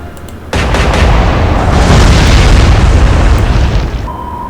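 A broadside from the British battleship Rodney in the naval game Atlantic Fleet, heard as one huge, close, sustained booming roar that starts abruptly and rumbles on for several seconds before easing off.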